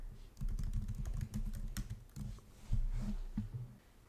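Typing on a computer keyboard, a quiet, close run of irregular key taps with brief pauses, alone without talk.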